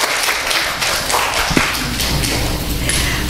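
A Korean church congregation applauds to welcome a deacon to the front, a thick, even patter of many hands with one louder thump partway through.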